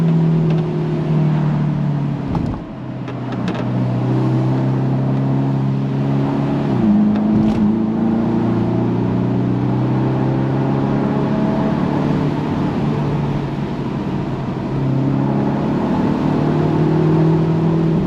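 A Mercedes-Benz SLC 300 Final Edition sports car drives a tight, twisty road. Its engine drones loud and steady from inside the cabin, and the pitch rises and falls with brief dips as it shifts and accelerates through bends.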